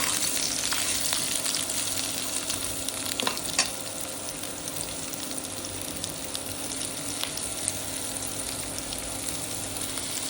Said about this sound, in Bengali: এবার আমের সঙ্গে মশলাটাকে ভালো করে মিশিয়ে দেব